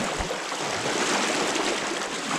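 A river rushes steadily around someone wading across it, a broad, continuous close wash of flowing water with no pauses and no talk.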